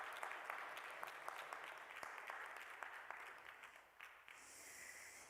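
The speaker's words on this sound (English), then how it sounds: "Another round of applause?" Applause during a Sunday church service, very faint and thin, a soft patter of clapping that dwindles, with a brief hiss-like noise near the end.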